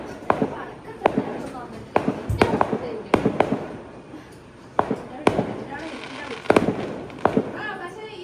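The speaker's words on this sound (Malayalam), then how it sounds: "വെടിക്കെട്ടിൻ്റെ ഒച്ച കേട്ടോ" Fireworks at a church or temple festival near Kochi, heard as sharp, booming blasts at uneven intervals, some doubled, fairly distant and echoing, with voices talking faintly in the background.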